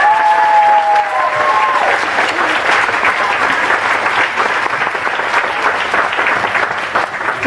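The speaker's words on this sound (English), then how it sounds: "So give yourselves a great big clap." Children at Orton Hall clap for themselves in loud, dense applause that starts at full strength and continues steadily for several seconds, with a few voices mixed in.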